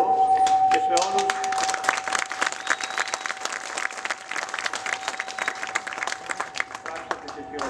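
Applause from the congregation at a festive evening service in a Greek Orthodox church, honouring a conductor and choir: many hands clapping unevenly after a brief tone, moderately loud and filling the room.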